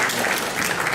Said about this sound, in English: Another round of applause for Andy and Faye for the wonderful presenta